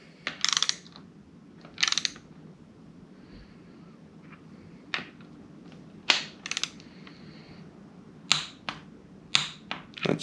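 Torque wrench tightening rocker trunnion bolts to 22 foot-pounds on an LS/LT engine, its ratchet giving sharp clustered clicks in several bursts separated by short pauses, close and crisp.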